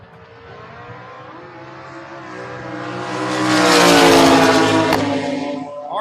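Camaro and motorcycle launching side by side at a drag strip, engines droning at idle then swelling into a loud roaring run that peaks and fades slightly as they pass.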